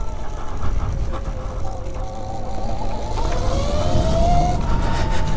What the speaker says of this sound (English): we're on the Arctic Leopard electric Enduro bike